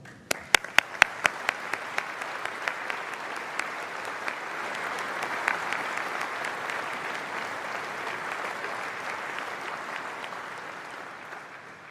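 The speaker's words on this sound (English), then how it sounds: "Please join me in thanking them with a well-deserved round of applause." Graduation ceremony audience in a large hall breaks into applause, a few sharp separate claps at first that quickly swell into a sustained, even wash of clapping, heard from a moderate distance and slowly easing off near the end.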